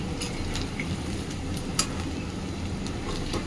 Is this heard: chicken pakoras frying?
yes